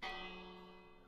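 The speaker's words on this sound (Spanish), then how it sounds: "¿Una campana?" A single bell strike rings in the Minecraft video game, a clear metallic clang that starts sharply and then hangs on as a soft, slowly fading ring.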